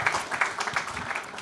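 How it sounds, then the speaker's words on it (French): Brief applause from a conference audience, a light patter of many hands clapping close by, with no voices over it. "On peut effectivement vous applaudir."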